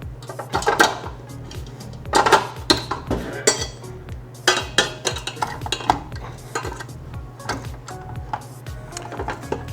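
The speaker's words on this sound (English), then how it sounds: "So we're gonna mix everything up in our stand mixer." Stand mixer on low blending meatball ingredients, a steady low motor hum under repeated clanking and knocking against the metal bowl, close by with no talking.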